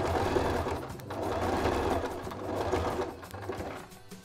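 A sewing machine stitches steadily around a fabric circle, a close, continuous mechanical whir that eases off toward the end, with no voices.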